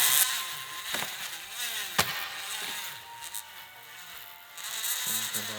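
A cheap $3 Dremel-style rotary tool cuts a thin piece, with a high, thin buzzing whir and grinding scrape, interrupted by a couple of sharp clicks, close but fairly quiet.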